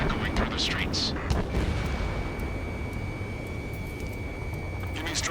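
Gunfire and jet roar echo through city streets under martial law in the video game Ace Combat 7, with sharp bursts at the start and end over a sustained rumbling background and a distant high whine.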